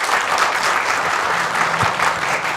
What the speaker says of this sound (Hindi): इस बात में तो मैं भी ताली बजाऊंगी